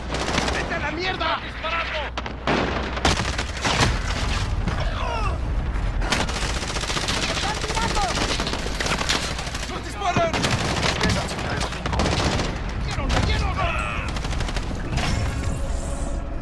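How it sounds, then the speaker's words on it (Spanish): Video-game gunfire crackles in rapid bursts and volleys with occasional booms, loud and nearly continuous, while players shout and talk excitedly over it. "¡Disparando! ¡Nos disparan!"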